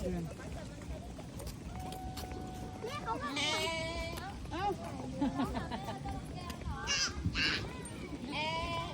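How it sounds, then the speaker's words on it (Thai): A young goat at Khon Kaen Zoo bleats repeatedly, calling for its mother, with several wavering cries rising over the crowd noise while people talk nearby and other animals call in the background. "นี่ตาแพะร้องหาแม่ พูดไงแพะร้องหาแม่"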